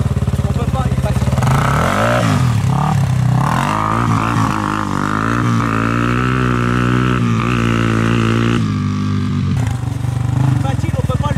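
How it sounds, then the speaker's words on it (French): A quad bike engine revs hard and steady at close range as the clutch is dumped and the wheels spin, the pitch rising and wavering under talk. "Regarde, l'embrayage, je vais le lâcher fort, ça va patiner vers l'arrière."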